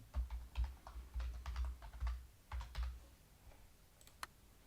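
Quick bursts of keystrokes on a computer keyboard as a mod name is typed, coming in uneven runs of close, soft clicks before a final sharper tap, with no voices.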